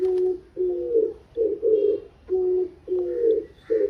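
A pigeon coos close by in clear, rhythmic phrases, repeating low throaty calls in groups with short pauses, with no other sound around it.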